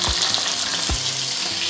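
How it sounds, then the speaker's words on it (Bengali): Pabda fish frying in hot oil, a loud close crackle and sizzle with two sharp low knocks of a utensil against the pan. "এই যে মাছ ভাজার কাজ চলছে"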